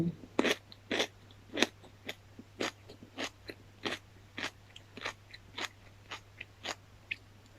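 Crisp, crunchy chewing of freshly picked garden cucumber in a Thai papaya salad: about twenty sharp bites in a steady rhythm, close and clear over a low background hum, with no talking.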